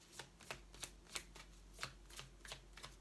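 Tarot cards are shuffled and drawn in a quiet room, giving a string of soft, crisp papery flicks and slaps at an uneven pace, close by and alone.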